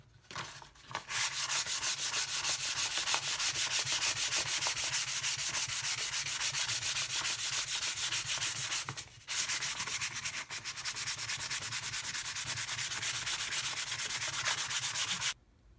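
Steady, continuous sanding of wooden AK rifle stock pieces, a close rough rubbing that runs unbroken apart from brief pauses near the start and midway.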